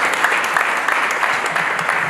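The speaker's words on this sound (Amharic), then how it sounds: "አጨብጭቡላት" Wedding guests applauding the bride during a church wedding vow ceremony, a steady crowd of clapping hands that sounds fairly close and full, continuing evenly with no voices.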